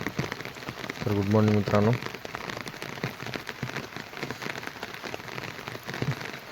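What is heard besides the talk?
heavy monsoon rain falling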